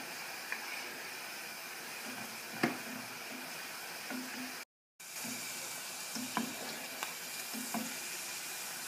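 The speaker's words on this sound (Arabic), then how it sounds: "هاي كمان حبة بصل عملتها شرائح، وهي كم حبة توم برضه عملتهم شرائح. راح احمرهم بزيت غزير" Sliced onion and garlic frying in plenty of oil give a steady close sizzle with faint crackles and a few sharp clicks. A brief full dropout cuts it near the middle, and no one speaks.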